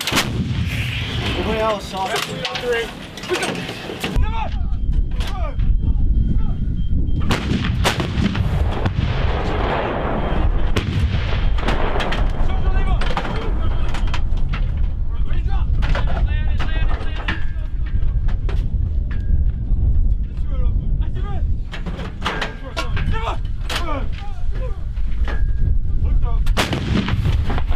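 Repeated loud, sharp gunshots crack and boom during special forces shooting training, some closely spaced, with shouted commands and speech between the shots.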